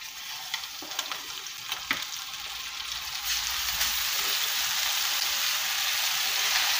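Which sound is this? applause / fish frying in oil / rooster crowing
fish frying in oil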